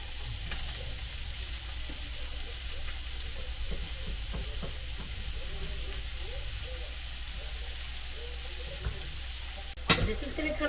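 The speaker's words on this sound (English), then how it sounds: "we're going to add the onion" Onion and garlic hit a pan at medium-high heat for pollo guisado, giving a soft, steady sizzle with light crackles throughout and a brief clatter near the end.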